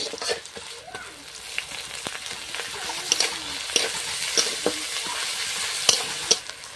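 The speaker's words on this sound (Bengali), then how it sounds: "আদা রসুন বাটা একটু দিয়ে দিয়ে মাছটা একসাথে কষাই করবো মাংসের মতো।" Kuche fish (eel) sizzling and frying in a pan with ginger-garlic paste, a steady broadband hiss broken by repeated scraping stirs and clinks of a spatula throughout, close and fairly loud with no talking.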